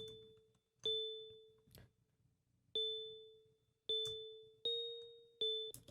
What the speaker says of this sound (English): Then I have this bell that follows the top notes of the